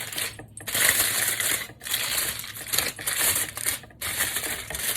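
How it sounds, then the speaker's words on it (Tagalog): Aluminum foil being wrapped around a dish of homemade foie gras before it goes into the oven: loud, close crackling and crumpling in several sustained bursts separated by brief pauses, with no talking. "mabalutin ko muna sa foil bago ko ilagay sa ating oven"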